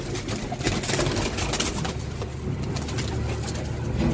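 Teddy golden pigeons coo steadily against a constant low rumble of background noise, with the soft calls blending together in a continuous, moderately loud bed of sound.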